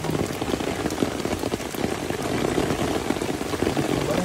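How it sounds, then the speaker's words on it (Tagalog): Heavy rain pours steadily outdoors at a flooded fishing spot, a dense, even hiss of drops striking water and surfaces, close and continuous throughout, with no talking. "Ah, malakas na ulan."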